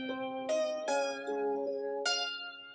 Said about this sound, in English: I took this guitar recording and I just pitched it up an octave.